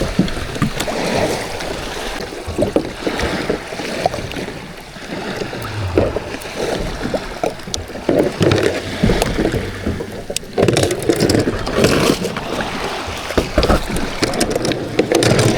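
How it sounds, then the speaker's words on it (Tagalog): Strong sea waves at a beach in Lobo, Batangas surge and wash loudly and continuously, with swelling bursts of broadband roar and no voices. "Lakas ng alon."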